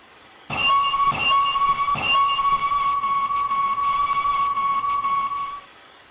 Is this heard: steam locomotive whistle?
yes